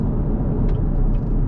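A 2022 Chevy Camaro SS cruises at highway speed, giving a dense, continuous low rumble of engine and road noise heard from inside the car, steady and loud without pauses or voices.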